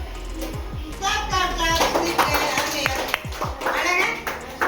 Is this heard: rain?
no